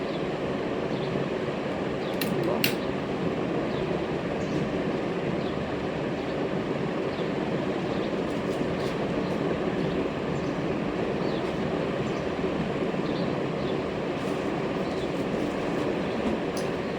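A sewing machine stitches everyday clothes with a steady, continuous mechanical whir and rumble that runs unbroken throughout, with no talking.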